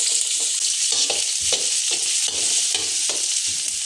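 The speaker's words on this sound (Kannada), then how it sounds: "ಇದಕ್ಕೆ ನಾನೀಗ ಒಂದು ಹೆಚ್ಚಿರೋದು ಒಂದು ಈರುಳ್ಳಿ ಹಾಕೋತಾ ಇದ್ದೀನಿ." Chopped onion sizzles and crackles in about 50 ml of hot oil in a pan, loud and close, with a bright steady hiss and irregular stirring scrapes and bursts throughout.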